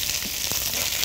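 Stuffed mixed vegetables (sarfolo) fry in a pan, a loud continuous close sizzle with a brief stirring scrape.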